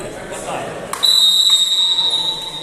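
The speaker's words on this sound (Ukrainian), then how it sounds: "Не було зрозуміло на що свисток" A referee's whistle at a volleyball match blows one long, piercing blast that rises over the hall's background noise after a thud.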